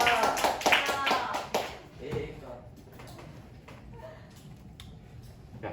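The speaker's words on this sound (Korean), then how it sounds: "박수." Applause in a classroom, a brisk burst of clapping from a group that fades after about two seconds into quieter shuffling and room noise, with a voice speaking over parts of it.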